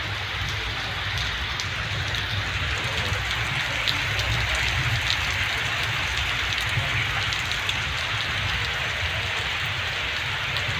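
Heavy rain pours steadily onto a street with water running down it, a dense unbroken hiss that stays loud and even throughout, with no voices heard.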